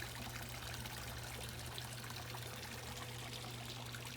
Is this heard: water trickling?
yes